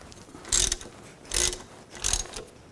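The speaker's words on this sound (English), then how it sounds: "I'm going to use a 12mm socket, loosen those up." A ratchet fitted with a 12mm socket loosens the brake caliper bolts on a 2000-06 Chevy Tahoe. Three distinct bursts of close clicking come at roughly even intervals with quiet gaps between them.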